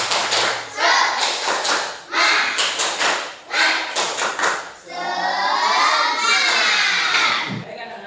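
Schoolchildren in a classroom perform a rhythmic clapping chant together, bursts of unison claps alternating with loud shouted chanting voices, ending in a long drawn-out cheer.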